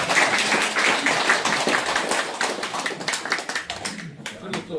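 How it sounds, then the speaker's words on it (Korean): Applause from the audience at a Seoul New Year's gathering of a clan association, a dense crowd clapping steadily throughout and thinning toward the end, with some voices mixed in. "우리 격려에 우리 박수를 한번 좀 부탁드립니다"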